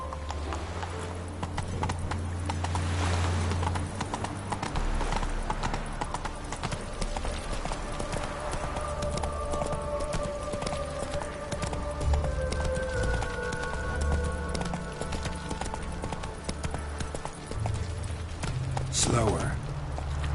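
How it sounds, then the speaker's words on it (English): Horse hooves clip-clop steadily in a video game, a rhythmic close trot with occasional snorts, under game music and a voice speaking. "Whoa there, Roach"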